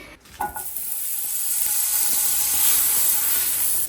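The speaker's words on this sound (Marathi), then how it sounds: "जेव्हा आपण तव्यावरती मस्त बटर घालून आपण हे भाजणार" Food sizzling in butter on a hot griddle, a bright hissing sizzle that rises after a brief clatter and stays loud and steady.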